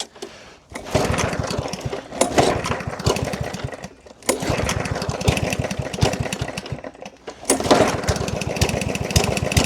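A free lawn mower's small engine is pulled over repeatedly, catching and sputtering loudly for a second or two before dying each time, in three or four close attempts with short silent gaps between them.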